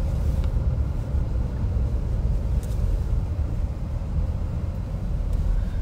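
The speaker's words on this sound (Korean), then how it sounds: "지금 열심히 가고 있는 차 안입니다." Steady low road rumble and engine drone inside a moving car, constant and close throughout with no talk.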